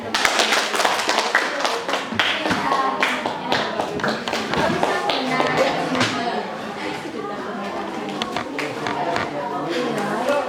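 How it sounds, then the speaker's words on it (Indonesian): Schoolchildren in a classroom clap their hands together in a fast, scattered patter of taps, loud and close, with children's voices and chatter mixed in throughout. "Tepuk tangan."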